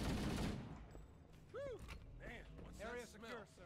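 Gunfire in the video game Halo: Combat Evolved comes as faint, scattered bursts of shots and sharp, whooping energy-weapon zaps, mixed with mechanical clicks. Several shots land in quick clusters.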